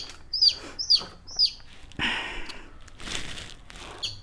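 Chicken chicks in a home brooder give three sharp, evenly spaced chirps up close, followed by a stretch of soft rustling and scratching noise.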